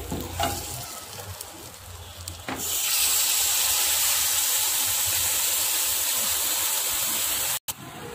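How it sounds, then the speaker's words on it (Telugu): Ground paste and chili powder fry in a pan for a paneer green peas curry, a few stirring scrapes first, then a loud, steady, close sizzle that holds without a break, no talking. "ఇప్పుడు ఇది బాగా ఫ్రై అవుతుందండి"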